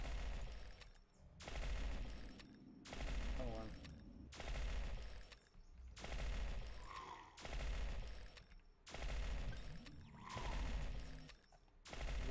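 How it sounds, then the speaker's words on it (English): A Cochrane LR7 laser rifle amped with an R-Matrix L4B attachment firing in the video game Entropia Universe: eight regularly spaced bursts of rapid shots, each about a second long with short pauses between, fairly faint. "A Cochrane LR7. So, it's a laser rifle."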